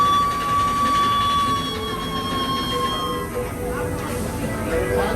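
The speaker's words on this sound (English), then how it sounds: "Here comes our train." The Big Thunder Mountain roller coaster train at Magic Kingdom in Orlando rolls into the station with a steady rumble and a long, high wheel squeal, under crowd noise and nearby voices.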